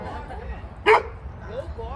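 Dogs being let out give a sharp, close yip and bark amid softer whimpers and howly whines, with a person talking quietly over a low background rumble.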